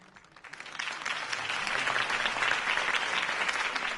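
Applause swells from a few claps into a full, sustained round from a large crowd.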